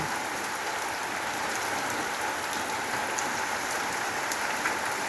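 Steady rain pours down on a summer day, a dense, even hiss of drops striking surfaces that stays constant throughout with no voices.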